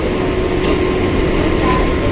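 Inside a KRL commuter train on the Depok–Bogor line, a steady loud rumble and rolling noise of the moving train fills the car, constant throughout with no clear talking.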